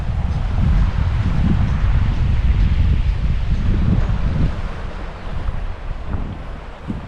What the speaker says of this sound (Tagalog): napakalakas kasi malakas yung hangin